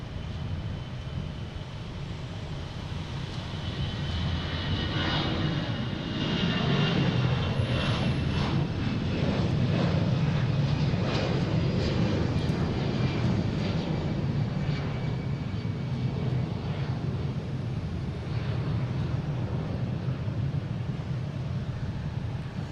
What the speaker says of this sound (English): American Airlines taking off, heading to Reagan. A319, flight